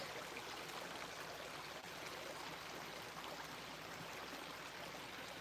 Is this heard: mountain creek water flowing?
yes